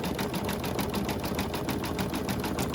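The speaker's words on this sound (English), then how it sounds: "this is going to do the front stitch along the edge" An embroidery machine stitching a front line along the edge of an Easter gift card holder, its needle hammering in a rapid, even rhythm, close and continuous with no talk.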